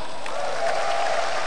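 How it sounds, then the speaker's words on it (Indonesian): A brief burst of audience applause at a stand-up comedy show, a dense wash of clapping from a crowd, steady and fairly loud throughout. "tepuk tangan"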